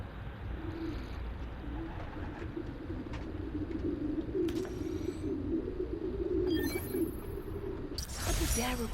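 Pigeons cooing in a city park in the video game Spider-Man Miles Morales, a soft low murmur of a group running steadily throughout, with a brief sharp clatter near the end.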